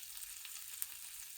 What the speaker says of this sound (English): we're just going to wait to hear this duck breast sizzle in the pan.